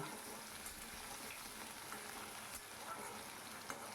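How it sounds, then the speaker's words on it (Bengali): Medium-sized potato pieces frying in a pan for a no-onion, no-garlic potato paneer curry, giving a continuous soft sizzle at low level with faint crackle, no talk. "সুন্দর করে নেড়ে চেড়ে ভেজে নেব"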